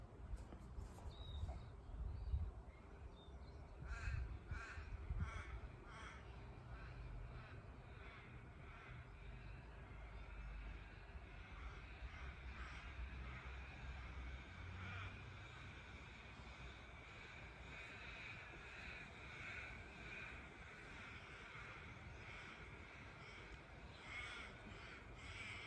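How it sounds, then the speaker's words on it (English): Crows cawing outdoors, a few harsh calls repeating at a distance over a quiet, steady background, with a faint hum like a passing aircraft. "And I keep hearing the birds. A lot of birds out today."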